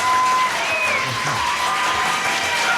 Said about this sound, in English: None of our other crowds applauds at that point